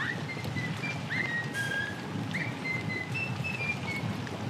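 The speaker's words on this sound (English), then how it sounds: "Stop whistling." Whistling in the Bendy and the Ink Machine video game: several short, thin whistled notes rise and fall over a steady hiss of background noise, moderately faint and without talk.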